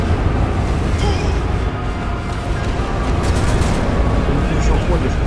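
Explosions rumble and crack in the shooter Sniper Elite V2 Remastered, a loud continuous roar of booms and debris with bursts of crackle, under a player's excited talking.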